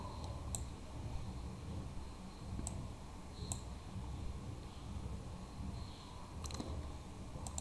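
Mouse clicks during work in CorelDraw: a few sharp, isolated clicks spaced irregularly over a steady low background hum, fairly faint and close.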